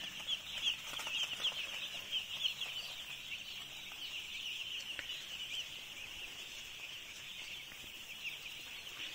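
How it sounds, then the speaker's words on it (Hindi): Day-two broiler chicks in a commercial poultry farm brooding house with about 8,000 birds crowd the air with a dense, continuous high-pitched chirping chorus at moderate level, with no talking. "तो दोस्तों, ये रहा आपका डे टू का चिक्स,"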